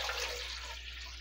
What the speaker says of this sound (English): I'm going to put about 12 cups of water in with this chicken